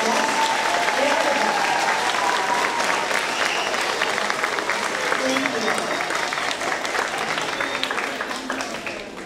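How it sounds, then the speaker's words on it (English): A school audience applauds a jazz band, drum line and cheerleaders with loud, sustained clapping and a few cheers, holding strong for several seconds before tapering off near the end. "Let's give them a nice big round of applause"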